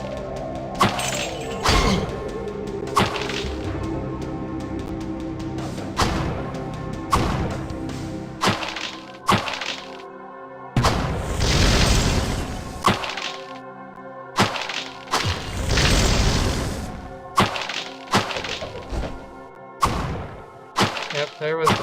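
Explosions from barrels blowing up in the video game Diablo: Hellfire, a rapid series of loud cracking blasts and thuds with several bigger booms mixed in over game sounds.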